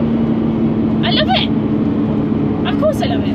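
A sports car engine drones steadily while driving, a constant low hum with short bursts of voice over it.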